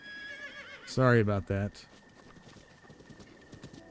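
A horse in Zelda: Breath of the Wild gives a loud, short whinny with clip-clop hooves, then quieter movement noises. Someone talks briefly at the start.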